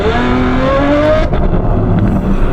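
A Novitec Ferrari F12 N-Largo supercar engine revving hard, a loud close roar with a rising pitched tone that cuts off abruptly, followed by rough idling and engine rumble.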